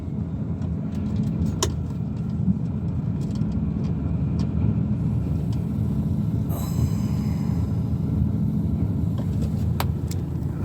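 Dump truck with its tipper raised easing slowly forward at an excavation dump site, a steady low engine rumble with scattered clicks and rattles and a brief brake-like hiss midway.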